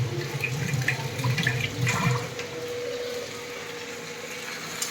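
Tap water runs steadily into a sink while hands are washed before handling fish in a home kitchen, a continuous close splashing hiss that settles into an even flow, with no talking.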